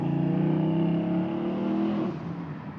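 Hot rod car at a Hot Rod Drag Week route stop, a loud, steady, close engine drone that drops in level near the end as it cruises past, with no talk.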